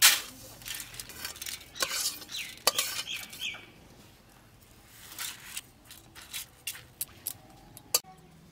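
Fried Gobindobhog rice poured into a pan, heard as a dense rattling, scraping clatter of grains against metal that thins out into sparser, sharp taps and knocks toward the end.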